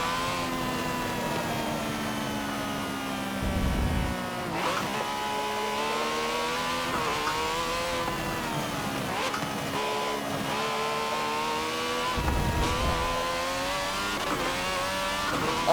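A prototype race car in Forza Motorsport 7 lapping the Nordschleife, its engine droning and whining continuously with rising and falling pitch through gear changes and corners, loud and close with no talk.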